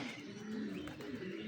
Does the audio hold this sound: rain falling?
no